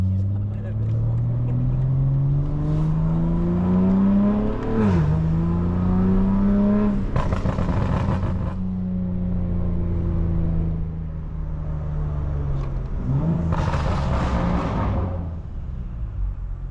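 A 2024 BMW G80 M3 Competition xDrive, a 700 HP sedan, accelerating hard at night through downtown Tampa. The engine note climbs loudly through the revs, drops briefly at two gear shifts, then rises again. The sound is close and steady throughout.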